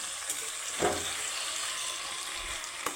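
A splash of rinse water from a spice bowl hits a hot pan with mustard oil and fish, giving brief sputters over a steady sizzling hiss, with no voices.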